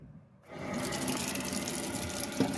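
A kitchen sink tap turns on and a steady stream of water runs into the basin, a continuous close rushing and splashing sound with no voices.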